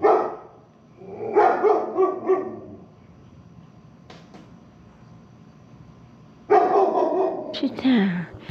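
A dog barks in loud, close bursts, a cluster at the start and another near the end, with quieter gaps and some human voice mixed in.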